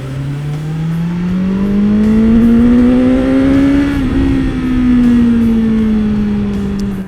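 A 2020 BMW S1000XR motorcycle engine revving up loudly and close, its pitch climbing steadily, dipping briefly, then holding high and easing slightly while riding in city traffic, with no talking.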